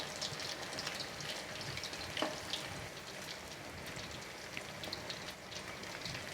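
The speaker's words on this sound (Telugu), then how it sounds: "చక్కగా తిప్పుకుంటూ కాల్చుకోవాలండి." Chicken pakodi deep-frying in hot oil over a low flame, a steady dense crackle and hiss that holds without a break from start to finish, with no voices.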